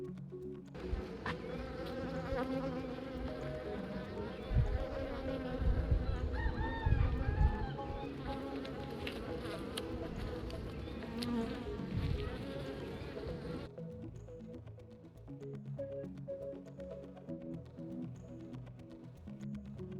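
Honeybees hum in a dense, steady buzz during a beehive removal in Santa Rosa, Arima, Trinidad, loud and close at first, then thinning after a sudden drop, with a rooster crowing in the background.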